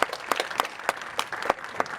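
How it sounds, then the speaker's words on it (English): Light, fairly distant applause from a zoo crowd at an outdoor sea lion show, a sparse ripple of clapping with clearly separate claps. "If he gets this one, give him a clap."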